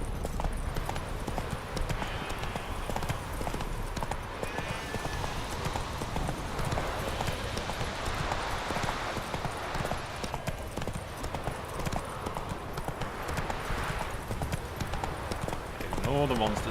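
Horse galloping in The Witcher 3: Hearts of Stone, a steady rapid drumming of hooves throughout with game dialogue and voices talking over it.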